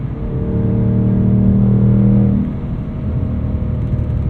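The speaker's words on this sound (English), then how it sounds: "Get a couple little burbles on the down rev, but nothing crazy. Pretty straightforward exhaust note." A 2024 Ford Mustang Dark Horse exhaust rumbles loudly at a steady drone, then eases off into a lower, softer burble on the down rev, with no voices.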